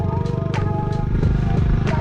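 Dirt bike engine droning loud and close as a rider pulls a small wheelie, a steady rough exhaust note with slight surges in revs, no voices.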